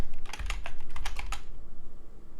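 A short burst of quick computer keyboard typing, about a dozen crisp clicks over a low background hum, ending abruptly after a second and a half.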